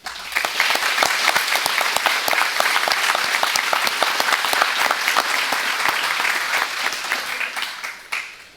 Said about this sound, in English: I would ask you to join me in applauding them at this time